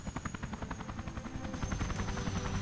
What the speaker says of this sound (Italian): Elicottero.